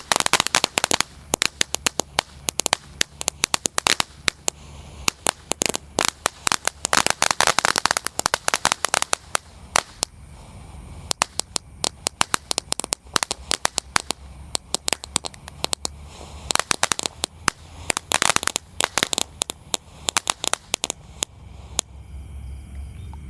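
A flower-power firework fountain crackles continuously at night, spitting dense rapid pops and sizzling bursts for a long stretch, loud and close.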